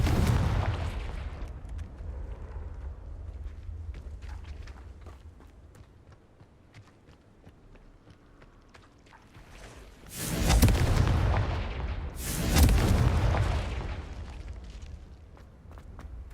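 Confringo fireball spells blasting in Hogwarts Legacy, an opening boom fading into low rumble, then two loud explosive bursts in quick succession near the end, each leaving a rolling crackle, with game ambience between them.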